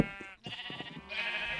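Sheep bleat in a Minecraft-style video game, several short close cries coming one after another and then a longer held bleat.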